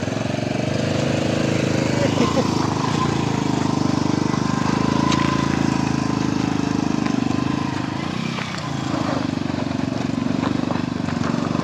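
A motorbike travels a rough, unpaved forest track near Amarkantak, its engine droning loud and constant with a low, steady rumble and occasional bumps, close to the listener for the whole stretch.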